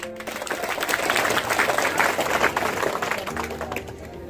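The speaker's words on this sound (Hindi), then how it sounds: "इन बच्चों के लिए ताली।" Audience clapping at a school annual function, a dense steady wash of applause from a crowd that holds for the whole stretch, fairly loud and continuous.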